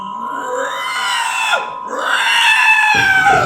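Someone shouting hoarsely while trying to imitate a rhinoceros, a loud strained bellowing cry that rises, dips and swells again, close and alone for a few seconds.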